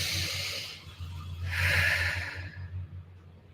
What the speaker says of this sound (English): Taking a deep diaphragmatic breath.